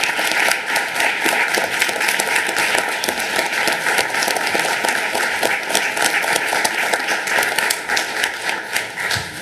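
An audience at a school district town hall gives sustained applause for a departing board member, a loud, dense spread of many hands clapping close by, with a few voices faintly underneath.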